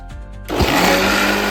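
An electric mixer switches on abruptly and whips egg whites with lemon juice for a plum cake, a loud, steady high whirring drone that starts after a brief quiet moment and runs on close by.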